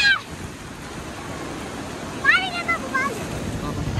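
Sea waves wash in at a busy beach, a steady rushing surf with wind noise, while people's voices call out over it.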